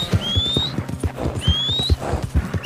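Horse hooves clip-clop at a slow, steady walking pace in Red Dead Redemption 2, close and clear, with faint ambient tones and creaks in the background.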